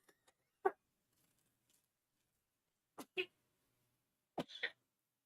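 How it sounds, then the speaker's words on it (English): Several sharp, harsh coughs from one person, heard in three separate bursts, a single cough and then pairs of quick coughs, fairly close with quiet gaps between them. "I think I just coughed up half my lung."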